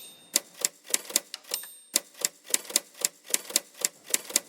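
Typewriter keys strike in a quick, uneven clatter of sharp clacks, close and loud, with brief pauses and no voices.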